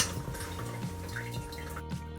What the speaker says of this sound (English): Place the noodles in a colander and rinse with cold water to remove any stickiness.